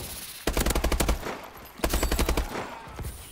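Two bursts of rapid automatic gunfire in the video game Call of Duty Advanced Warfare, each a fast run of sharp, loud shots lasting about a second, separated by a short pause.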